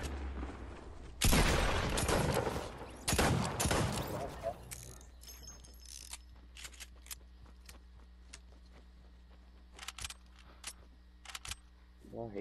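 Video game gunfire, with dense bursts of rapid shots early, then scattered sharp single shots over a quiet background, with someone talking over parts of it.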